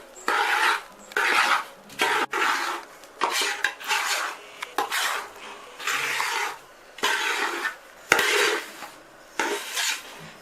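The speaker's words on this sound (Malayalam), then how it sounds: "ഇത് നമ്മൾ കൈ മാറ്റാതെ തന്നെ ഇളക്കിക്കൊണ്ടിരിക്കണം, അല്ലെങ്കിൽ അടിക്ക് പിടിക്കും." Puttu flour roasts in a pan under constant stirring, giving rhythmic bursts of dry scraping and rasping roughly once a second, with brief quiet gaps between strokes.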